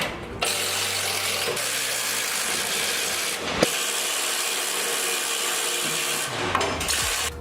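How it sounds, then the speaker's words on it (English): A power tool ratchets and whirs continuously while tightening the side step bolts of a Rockarmor Rockslider on a Nissan NP300 Navara, with a few brief pauses and clicks between bursts. "I'm just going to go through, tighten up my passenger side Rockslider"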